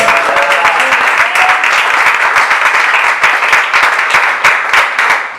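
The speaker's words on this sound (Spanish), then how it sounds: "Dale un aplauso." A church congregation applauds during a sermon, dense loud clapping filling the room nonstop from start to finish, with only faint murmurs beneath.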